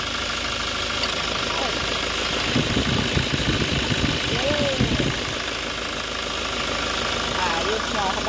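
A Toyota Innova engine idles nearby with a steady mechanical hum and faint ticking, while someone talks over it throughout.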